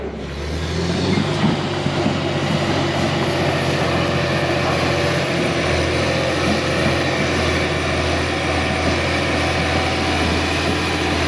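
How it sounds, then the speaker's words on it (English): Drone flying near a pond being dredged by a dozer, giving a steady, loud, continuous engine-like hum and buzz that holds without a break, with no talk over it. "I got the drone for that"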